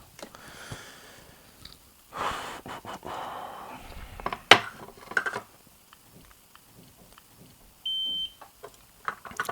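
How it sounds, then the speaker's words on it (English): A single short electronic beep from a soldering gun as it is switched on rings out near the end, after scattered clicks, handling noises and breaths. "It beeped."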